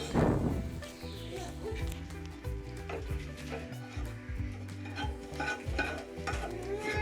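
Onion stirred into a Kerala chicken curry in a pan, with close scraping and clinking stirs over a low sizzle as faint music plays underneath.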